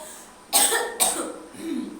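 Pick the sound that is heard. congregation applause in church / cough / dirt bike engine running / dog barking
cough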